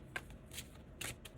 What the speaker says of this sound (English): A little tarot card ASMR for you.